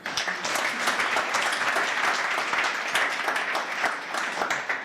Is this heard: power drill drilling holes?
no